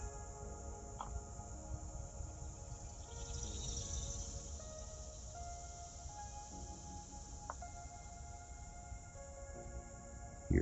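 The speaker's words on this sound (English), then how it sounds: "Hear the grasshoppers and cicadas in the background." Grasshoppers and cicadas in the North Woods of New York's Central Park keep up a steady, high insect drone throughout, with faint distant background noise and a few brief tones under the continuous buzz.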